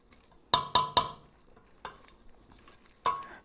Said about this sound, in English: You just want to stir this up just like this.